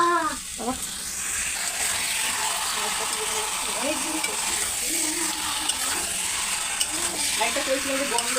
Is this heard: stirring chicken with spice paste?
yes